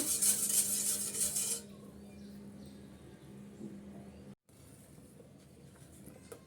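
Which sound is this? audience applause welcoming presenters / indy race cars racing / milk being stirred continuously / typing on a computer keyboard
milk being stirred continuously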